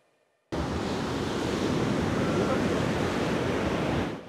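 Rough sea surf and strong wind at the Azureti beach resort, a loud continuous roar of crashing waves and gusts that starts suddenly and holds steady, with no voices.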